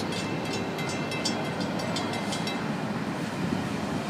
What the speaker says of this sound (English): That was a good looking train.